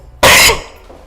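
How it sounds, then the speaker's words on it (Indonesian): A man lets out a single loud, harsh cough, close up and abrupt, then silence. "ini batuk ente"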